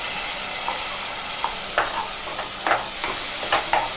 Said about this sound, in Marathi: ही व्यवस्थित आपण ढवळून घेऊया